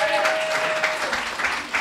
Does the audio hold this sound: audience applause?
yes